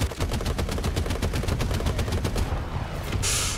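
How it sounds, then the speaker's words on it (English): Rapid bursts of gunfire in a tank battle video game strike the tank hull, a loud sustained machine-gun rattle running throughout, with a brighter hiss near the end. "Oh, and I'm getting shot at too."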